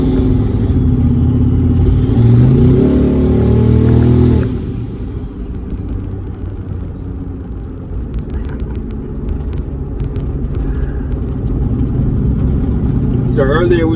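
A turbocharged Chevy Tahoe running a base tune drives along, its engine droning loudly as it revs and rises in pitch, then eases into a steadier lower rumble with road noise; someone talks over it.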